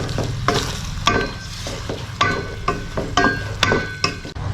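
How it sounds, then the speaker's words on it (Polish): Pork pieces for a quick Cambodian-style goulash sizzle loudly in a pan while being stirred, with rhythmic scraping strokes every half second or so over a constant frying hiss and no voices. "Podsmażamy cały czas, cały czas mieszamy, aż do momentu, kiedy nasze mięso będzie już dokładnie ze wszystkich stron ścięte"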